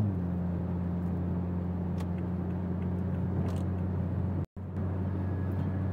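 A Toyota MK5 Supra with a built ZF8 transmission cruises on the highway at about 73 mph, giving a steady low engine and road drone inside the cabin with a brief dropout near the end.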